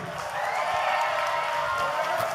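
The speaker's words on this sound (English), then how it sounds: "Let's give a big hand to Jessica White," A wrestling arena crowd claps and cheers for Jessica White as she enters the ring, a steady roar of applause at moderate distance with a voice over it.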